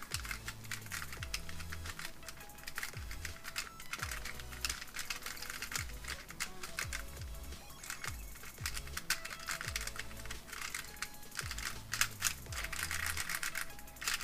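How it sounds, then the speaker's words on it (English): A Square-1 puzzle cube is turned by hand, producing rapid, repeated plastic clicks and swishy sliding clacks in irregular bursts, close and fairly loud, with no talking. "It's very swishy and sort of clicky on the slice layer, and it has decent corner cutting."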